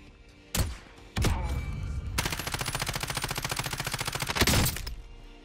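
Gunfire in the video game Warzone as a player shoots into the air: two heavy single shots, then a rapid sustained burst of automatic fire for about two seconds, ending in a louder final blast.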